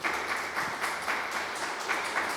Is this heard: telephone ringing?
no